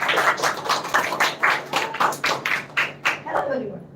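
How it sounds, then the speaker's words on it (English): Children at a school literature festival clap in a brisk, rhythmic run of sharp strikes that thins toward the end, with a faint voice murmuring underneath. "Yes, please clap, please clap."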